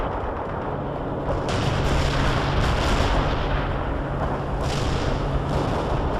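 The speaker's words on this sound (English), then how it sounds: "Coordinates received. Artillery firing." Artillery fire in the war strategy game World in Conflict, a continuous loud rumbling barrage with overlapping booms and blasts and no clear gaps.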